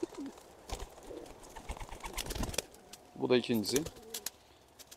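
A crested, rose-breasted domestic pigeon coos close by in a quiet indoor loft, one short burst of throaty warbling after a man's brief speech. Faint rustles and flutters come before it.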